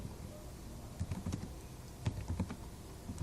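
Typing on a computer keyboard, soft, irregular clusters of key clicks close by in a quiet room, with short pauses between bursts.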